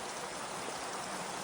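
Creek water rushes steadily through a rainy fern-lined canyon in Humboldt on an April day, a dense, even wash of flowing water and falling rain with no voices.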